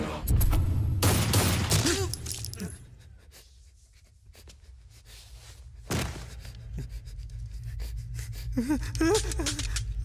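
Gunfire in a dubbed Indian action film scene, a loud burst of shots at the start, then a quiet stretch and another sharp shot, with music and voices in the mix.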